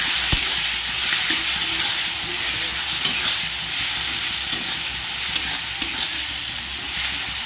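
Tomatoes and onions with salt sautéing in a pan, a steady broad sizzle with scattered scrape and stir clicks of a utensil throughout, close and fairly loud with no talk.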